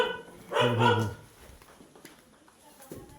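A single guard dog's bark at a farm, fairly close and loud, rising briefly over faint background noise, followed by quiet rustling.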